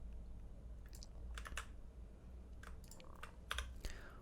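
Quiet computer keyboard presses, a handful of crisp clicks arriving in small clusters with short gaps between them, close and clear over a low hum.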